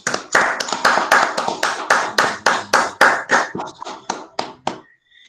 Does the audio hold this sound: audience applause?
yes